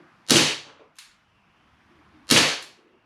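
A Sig Sauer 1911 CO2 blowback BB pistol fires two sharp, loud cracks about two seconds apart, with a faint metallic click between them and quiet otherwise.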